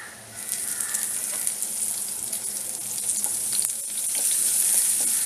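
Chopped onion frying in a pan with a spoonful of homemade Malvani masala, turmeric and coriander, sizzling steadily with occasional stirring scrapes, the crackle growing slightly louder toward the end.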